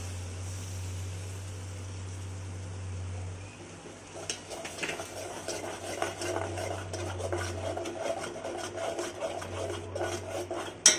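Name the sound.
coconut paste being sautéed and stirred in a pan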